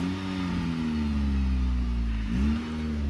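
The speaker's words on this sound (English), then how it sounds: "Yes, that's the exhaust noise." Car exhaust note under revving, with a steady low drone and harmonic tones that sag, then climb sharply as the engine is blipped near the end, close and loud with no talk.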